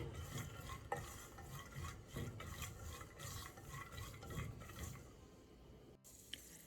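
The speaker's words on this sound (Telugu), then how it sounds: "గోల్డెన్ బ్రౌన్ కలర్ వచ్చే వరకు వేయించుకోవాలి." Cashews and raisins fry in oil in a pan until golden brown, a soft continuous sizzle with repeated stirring scrapes and gentle rustling, quiet and close with no talking.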